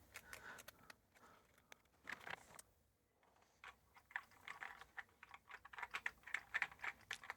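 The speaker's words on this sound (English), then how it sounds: "I do like a nice key click" Quiet, irregular key clicks from typing on a ZX Spectrum membrane keyboard fitted with a new membrane, coming in scattered bursts with short pauses.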